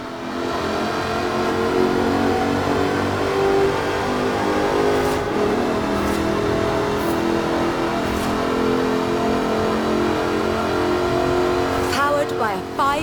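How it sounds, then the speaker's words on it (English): Supercharged 5-litre V8 with an all-aluminium body revving in Forza Horizon 4, a loud, sustained engine drone with layered harmonics held steady throughout, under continuous narration. "Powered by a 5-litre V8 supercharged engine, with a fully aluminium body, it's blisteringly fast"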